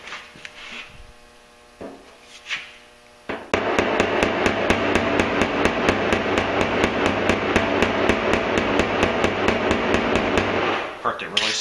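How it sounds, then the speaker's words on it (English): Rapid metal hammering with a body hammer on a truck fender, a steady run of sharp evenly spaced blows on sheet metal lasting several seconds, preceded by a few scattered knocks and shuffling. "with the body hammer and knock that down into a little low spot"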